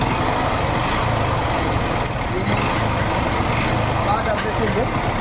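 A Yamaha FZ S motorcycle engine with a faulty crank runs steadily at idle, its low, even drone carrying a faint repetitive ticking, close and continuous throughout.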